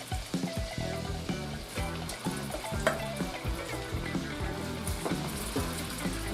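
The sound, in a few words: shrimp frying in a pan of sauce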